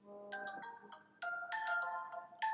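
A phone ringtone from an incoming spam call plays a bright electronic melody of repeating tonal phrases, fairly close and clear, with no talking over it.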